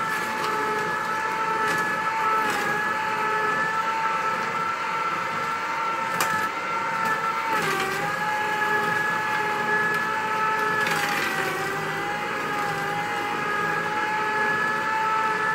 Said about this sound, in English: this is a pretty good juicer, isn't it?